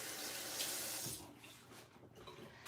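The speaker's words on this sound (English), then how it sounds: "Let me take a rinse because I did touch my hair just now." A kitchen tap runs as hands are rinsed under the stream, a close, steady splashing that dips slightly as the flow shifts.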